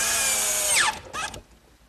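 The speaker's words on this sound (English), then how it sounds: "a few screws, and that'll hold the base in place." A power drill whirs loudly as it drives a screw into the wooden base of a bookcase, then winds down and gives a short second burst before stopping.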